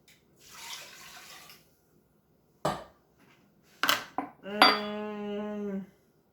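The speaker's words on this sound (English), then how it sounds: "Now, 1½ cups of water." Water is poured into a soup pot for creamy vegetable soup: a short, soft rushing pour of about a second, followed after a pause by sharp knocks of cookware and a sustained humming tone, with no talking.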